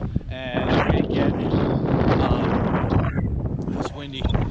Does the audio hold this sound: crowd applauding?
no